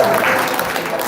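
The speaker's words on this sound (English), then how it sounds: "Give some applause for Vanessa here." A brief burst of crowd applause at an outdoor spring festival, a dense patter of clapping hands, loud and close, lasting about a second.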